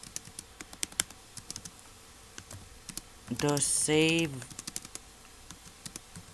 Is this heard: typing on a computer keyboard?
yes